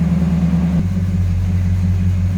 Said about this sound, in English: Listen to that rumble. Good sounding idle.